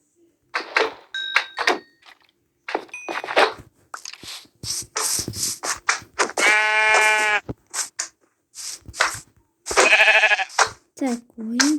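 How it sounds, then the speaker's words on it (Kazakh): Sheep in a blocky video game bleat in short wavering cries, two clear loud calls among clicks and thunks, while people talk over the game sounds. "Так, қойларын бәрін өлтіреміз."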